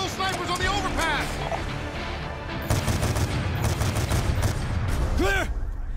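Dense automatic gunfire from a Call of Duty Black Ops 2 battle, loud and continuous in rapid crackling bursts, with shouted in-game voices over the shooting.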